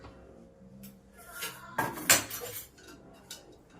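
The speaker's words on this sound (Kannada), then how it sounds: "ಕುಕ್ಕರ್ ಲಿಡ್ ಮುಚ್ಚಿ" A pressure cooker lid is closed over spicy pongal, with metallic clanks and scraping of the lid against the pot in a couple of close, sharp bursts, then a softer clink, with no talk.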